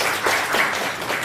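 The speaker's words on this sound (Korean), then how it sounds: "박수 한번 부탁드려요." Short burst of audience applause at a business forum lecture, a dense blended wash of clapping with no talking over it.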